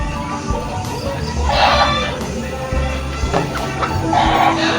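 Backyard Bruce Barnett Sweater bloodline gamefowl rooster, a tall bird with a freshly dubbed pea comb, clucking and calling close by among other fowl noise in a busy yard, with steady background sound throughout.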